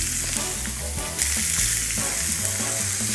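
A beef burger patty sizzles loudly in hot oil, a dense continuous crackling hiss with occasional pops and a brief surge as the meat shifts, close and steady with no talking.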